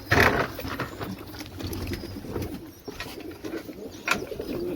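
Soft pigeon coos murmur close by in a loft against a faint background hum, a brief louder flutter at the start.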